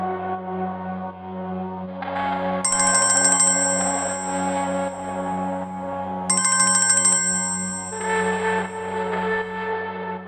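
A phone ringtone plays in two loud bursts of a bright, repeating electronic melody over a steady tonal backdrop, with no speech.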